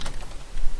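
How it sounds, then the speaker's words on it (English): Brief burst of typing on a computer keyboard during a Dungeons & Dragons tabletop session, with a few sharp key clicks at the start and end over low room noise. "Don't type with such anger."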